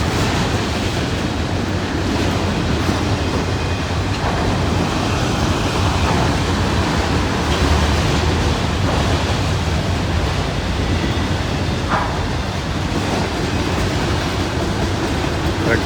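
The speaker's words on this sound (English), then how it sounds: "Now the main thing is hopefully this train rolls on through" A long freight train rolling steadily past on railroad tracks near a road crossing in rainy weather, a continuous broadband rumble and rush with no gaps, fairly close and sustained throughout.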